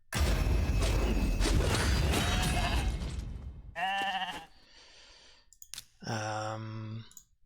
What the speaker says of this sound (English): First chance I get, I'm just going to try to sheep Harima.